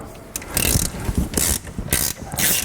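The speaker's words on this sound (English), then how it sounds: "We can now undo these bolts here with an 8mm hex drive" A ratchet with an 8mm hex drive works the brake back plate bolts on a Rover 75 1.8 Turbo's rear hub, making close, repeated bursts of clicking in an uneven rhythm with short pauses between.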